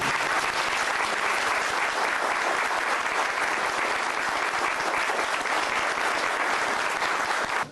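Steady, full applause from an audience at a Vale do Amanhecer lecture holds evenly for several seconds without pause, then stops abruptly.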